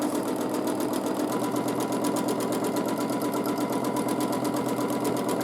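Up close, a sewing machine runs nonstop during free motion quilting, the needle hammering in a quick, regular pulse over a steady mechanical drone, with no one speaking.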